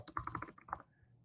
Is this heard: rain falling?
no